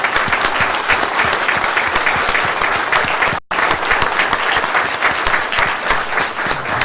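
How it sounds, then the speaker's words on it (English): Applause for staff at a Stafford, Virginia Board of Supervisors meeting fills the room as dense, loud, continuous clapping from many people, with a brief cut in the middle before it resumes at full strength. "and I just want to applaud them."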